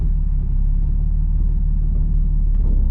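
A manual-transmission car idles with a steady low rumble while the driver tries to engage first gear, the engine note holding even with a slight rise near the end.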